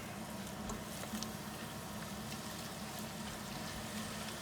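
Chicken pieces browning in a hot skillet, a steady soft crackle and sizzle of fat with scattered pops, quiet and continuous with no talking.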